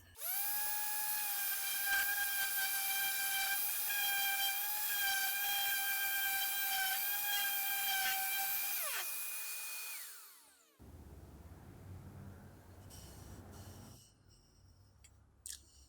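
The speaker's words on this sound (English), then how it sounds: "Let's sand this down." Makita random orbit sander running on rough sawn cherry wood, a loud steady high-pitched whine with a faint shift as it works, then winding down and stopping, followed by quiet handling sounds.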